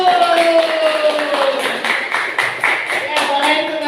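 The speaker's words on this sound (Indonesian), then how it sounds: "tepuk tangan untuk kelompok 1" Classroom applause for a student group after a science experiment: a few seconds of scattered, irregular clapping from a small group, close and fairly loud, with a teacher's voice running over the start.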